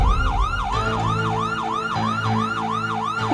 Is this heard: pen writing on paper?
no